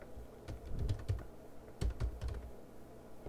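Quiet typing on a computer keyboard, irregular bursts of soft key clicks close by, pausing briefly before another run of keystrokes.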